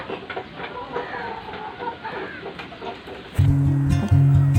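Chickens clucking nearby in short, irregular calls, followed by a sudden louder droning noise that takes over toward the end.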